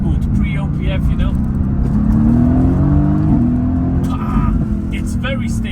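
A sports car's engine hums and revs steadily in race mode with manual shifting, its pitch climbing and settling under faint talk throughout.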